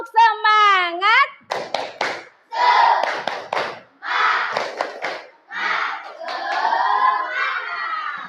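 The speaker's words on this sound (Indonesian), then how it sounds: "kita pakai tepuk semangat dulu ya" Classroom of children doing a rhythmic clapping chant with a teacher, shouted call-and-response phrases in bursts between claps, loud and close.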